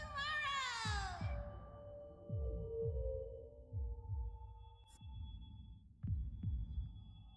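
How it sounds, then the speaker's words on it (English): Heartbeat sound effect in a video game finale, a series of soft low thumps in irregular pairs under a gliding synth tone and sustained hum, fading in and out over the clip. "As if I can hear the sound of my heart beating."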